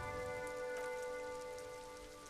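Steady rain falls in Disco Elysium, a soft, even hiss of drops on a surface, continuous and moderately close with no voices.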